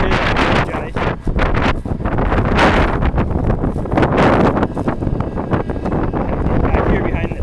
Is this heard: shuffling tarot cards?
no